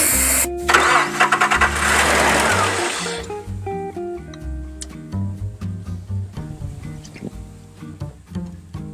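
Nissan Xterra engine cranking on starting fluid: a loud burst of rapid starter whir and firing, then a run of uneven, sputtering pulses and clanks as it struggles and dies, close up.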